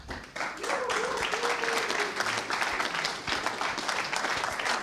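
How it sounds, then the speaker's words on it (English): Warm welcome applause from a conference audience at the Dash Convention Europe, dense continuous clapping at moderate volume lasting about five seconds, with a few voices faintly mixed in. "Please give a warm welcome applause."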